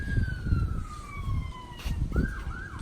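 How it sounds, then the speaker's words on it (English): Distant emergency siren wailing with slow falling and rising sweeps, faint under nearby outdoor rumble and handling noise. "I don't know if you can hear the siren."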